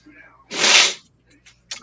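A single loud, sharp sneeze bursts out nearby, followed by a brief quiet and a small vocal sound.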